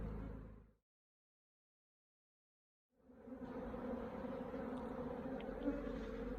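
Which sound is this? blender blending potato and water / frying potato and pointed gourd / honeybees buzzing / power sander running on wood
honeybees buzzing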